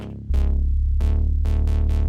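House-style sub bass from a dance track drop: a deep, loud sustained low tone entering after a brief pause, with punchy synth notes striking on top in an uneven pulse, heard alone and up close.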